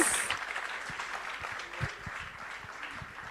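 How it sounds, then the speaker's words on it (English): An audience at an education awards gathering applauds the award winners, a soft, somewhat distant wash of clapping with a few distinct sharp claps standing out. "A big round of applause for all the awardees."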